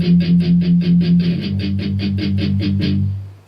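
An electric guitar chugs palm-muted power chords in a verse pattern, a rapid, even stream of short, tight chord strums running about three seconds before the last chord rings briefly.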